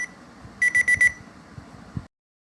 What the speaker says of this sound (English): The unique feature of this clock is the volume of the alarm can be